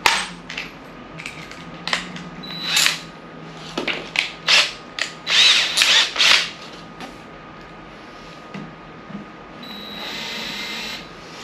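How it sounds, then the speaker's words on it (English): A power drill drives Allen screws while a pantry cabinet is being assembled, giving a run of sharp, close clicking and rattling bursts in the middle, then a steadier faint whir near the end. "Driving these screws, I make sure this thing is very straight and perpendicular to each other"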